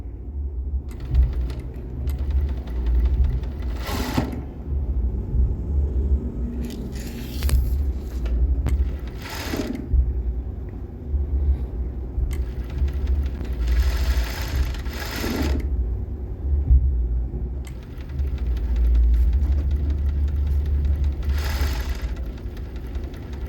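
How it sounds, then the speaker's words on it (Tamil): A sewing machine stitches blouse fabric in a steady mechanical whir that runs in long bursts, with brief pauses and a close, even hum throughout. "தையல் பிடிச்சிருவோம்."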